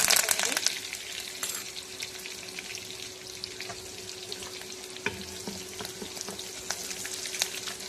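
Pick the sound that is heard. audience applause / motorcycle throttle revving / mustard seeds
mustard seeds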